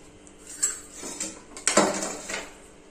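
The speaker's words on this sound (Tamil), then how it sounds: "கீ ஆட் பண்ணிட்டு நல்லா மிக்ஸ் பண்ணி விட்டுடலாம்." Vegetable biryani stirred with ghee in a pot, with a few close clinks and scrapes of a spoon against the metal pot, spaced irregularly and with no talk.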